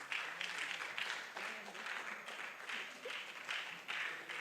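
Workshop audience applauds after a presentation on gender-based violence, a fairly faint, continuous patter of clapping in a hall, with some voices mixed in.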